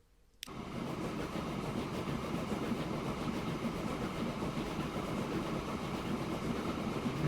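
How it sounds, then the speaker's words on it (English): A train runs in the railway simulation game Transport Fever 2: after a brief quiet moment, a steady low mechanical rumble of the moving train carries on evenly throughout. "Just want to buy another train."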